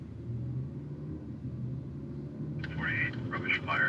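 A loud city bus idles and rumbles close by on a Los Angeles street, a steady low drone filling the whole stretch, with a brief higher mechanical squeal or hiss near the end.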